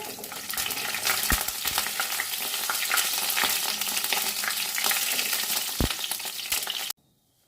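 Fennel, coriander and white cumin, added after cinnamon, fry in hot oil for an aloo dum, with a dense, steady crackling sizzle and a few soft stirring knocks close by. The sizzle cuts off abruptly near the end, and no one talks.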